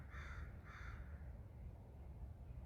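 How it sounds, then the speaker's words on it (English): A crow in an urban backyard caws twice in quick succession, loud and harsh, over a low constant outdoor hum with no voices. "this crow is talking to us right now."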